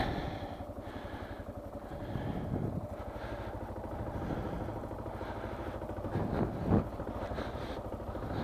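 Motorcycle ridden with the helmet face shield flipped open, giving a steady engine drone mixed with wind rush throughout, with a brief louder swell near the end.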